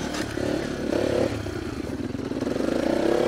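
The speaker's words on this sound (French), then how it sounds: "Moi avec mon 4 temps et 125, vaut mieux remettre la première là." Beta RR 125 four-stroke motorcycle pulling in first gear off-road, a close, steady engine drone with a throbbing low rumble and some clatter throughout, no talk.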